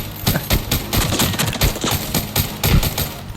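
Gunfire in Arena Breakout while practicing lean-shooting, a rapid run of close, punchy shots in quick irregular bursts with brief gaps, loud and without talking.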